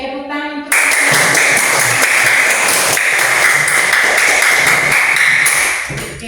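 After a brief tone, a room full of people bursts into sustained clapping that holds steady for several seconds before tapering off.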